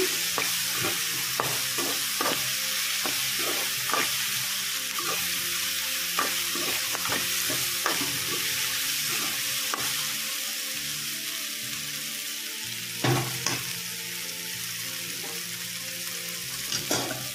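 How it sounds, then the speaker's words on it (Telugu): Raw prawns, onions and green chillies with salt and turmeric frying in oil: a steady, close sizzle runs throughout, with repeated scraping stirs and an occasional louder clatter, no talk. "ఇప్పుడు మనం ఆయిల్ పెట్టుకున్న పచ్చిరొయ్యలు, ఉల్లిపాయలు, పచ్చిమిరపకాయలు, ఉప్పు, పసుపు వేసాము"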